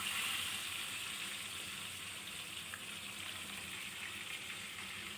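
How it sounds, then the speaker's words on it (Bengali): Tilapia fish frying in lightly salted oil, a soft, even sizzle that holds steady throughout at low level, with no voices. "তো দেখতে পাচ্ছেন খুবই সুন্দর ভাবে তেলাপিয়া মাছগুলো ভাজা হচ্ছে"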